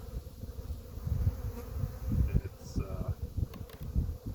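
Honey bees buzz inside small mini mating nuc hives, a dense, steady low drone close by with rustling and faint handling knocks mixed in.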